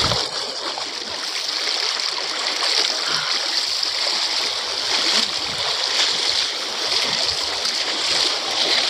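A clear river rushes and splashes in a continuous, even wash of water, close and moderately loud, with no voices.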